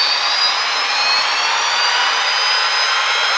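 An L-39 jet engine lighting up during its start sequence, a loud, steady broadband roar with a high-pitched whine running throughout, close and alone.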